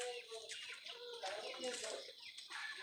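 Rhode Island chickens clucking in a backyard farm pen, a busy overlapping chorus of soft clucks and calls close by, with some voices faintly mixed in.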